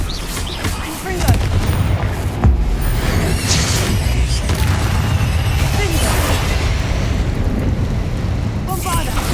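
Fiery Confringo spell blasts from the video game Hogwarts Legacy burst in repeated loud booms over dense, rumbling combat noise that continues throughout.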